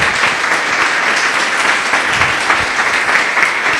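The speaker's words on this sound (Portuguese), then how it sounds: "Louve ao Senhor com suas palmas bem forte." A church congregation claps hard and fast together, a dense, loud, continuous wash of applause with no voices on top.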